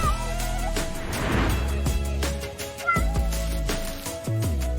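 A pet cat meows several times indoors in a new home setting, with soft background music or room sound around the calls.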